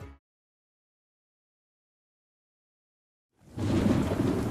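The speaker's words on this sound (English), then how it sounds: "Man, it is really coming down out there." Heavy rain pours down with thunder as a radio-ad sound effect, cutting in abruptly after near silence as a loud, dense, continuous wash.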